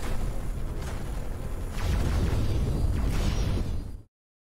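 Gunfire and explosions from the space combat game X4 Foundations: a dense, continuous barrage of booming blasts and bursts that grows heavier midway, loud and close, then cuts off abruptly.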